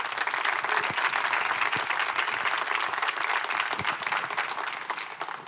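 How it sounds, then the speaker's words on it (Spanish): Church congregation applauding together in a dense, steady wash of clapping that holds loud and unbroken for several seconds with no talk. "Dale un aplauso a Jesús."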